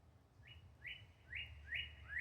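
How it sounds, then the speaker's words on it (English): A small songbird sings on a spring porch, giving five clear rising chirps spaced about half a second apart, moderately close and steady over a low outdoor hum. "Speaking of birdies, do you hear him talking right now?"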